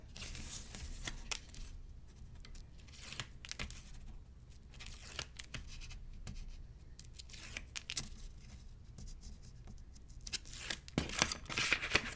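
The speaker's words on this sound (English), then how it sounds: "I'm going to remove the back from my tape" Backing paper is peeled off craft tape in close, crinkly tearing and rustling bursts with short pauses between pulls; no one speaks.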